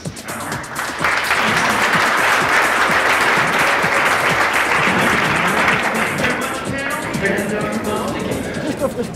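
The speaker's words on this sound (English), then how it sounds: "Big round of applause for this panel." Loud applause for a panel at a blockchain conference, a brief murmur giving way to sustained dense clapping for about eight seconds, with crowd chatter underneath.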